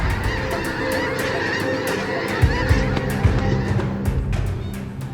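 A flock of wild geese honks steadily, many overlapping calls forming a dense, continuous clamor with a few louder nearby honks standing out during a waterfowl hunt.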